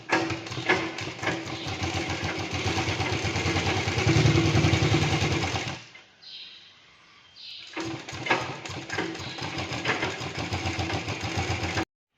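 A sewing machine stitches the side seams of a blouse, running in a loud, steady mechanical whir with rapid needle clatter, pausing for about two seconds midway before starting up again.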